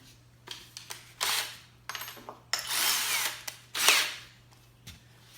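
Power drill boring Euro hinge holes through a clamped cabinet door, guided by pre-drilled holes: several short bursts of whining drilling, each starting and stopping, close and fairly loud, with brief pauses between, no talking.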